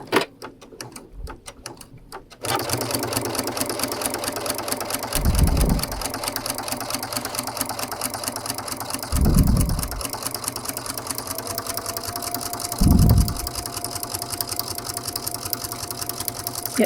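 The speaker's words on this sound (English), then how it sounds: "Now I'm going to stitch right down the middle of my drawn line." A Brother sewing machine stitches a straight quilting line for channel quilting, starting after a brief pause and running in a steady, close, fast mechanical whir with a few low thumps along the way, with no speech.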